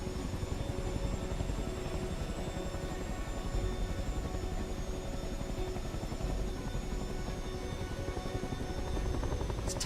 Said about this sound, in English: We got to fly the Chinook again.